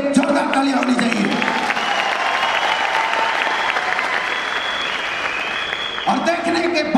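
Loud applause from an audience at an MLM industry gathering, dense clapping that carries on between stretches of someone talking over a microphone.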